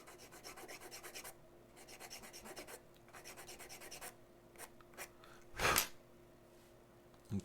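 A fine sanding file rasps against a plastic part of a Millennium Falcon scale model, quick rhythmic back-and-forth strokes in bursts with short pauses, close and quiet, followed by a brief louder rustle near the end.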